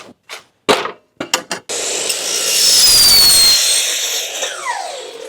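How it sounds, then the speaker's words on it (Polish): A few sharp knocks, then a power saw spins up and cuts through a workpiece during car-building work, a loud, close, sustained whine that rises and settles before winding down. "Troszeczkę musiałem sobie tutaj poprawić kąty na pile."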